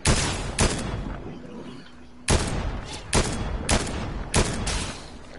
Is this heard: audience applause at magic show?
no